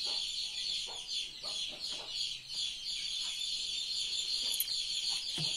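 Hen clucking repeatedly in a village yard, with short rhythmic clucks close by over a steady high-pitched background of birds or insects.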